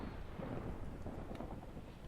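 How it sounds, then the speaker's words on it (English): Thunderstorm weather in the block-building survival game Vintagecraft: a steady, dense rumble of thunder and rain with a broad wash of noise, loud and continuous with no talking. "There's a thunderstorm going on outside."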